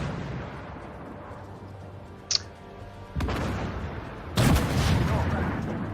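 Tank cannon fire in Armored Warfare with a Leopard 1A5 in play: two heavy, close booms a second or so apart, each leaving a loud rumbling tail over steady battle ambience, with a brief sharp report just before.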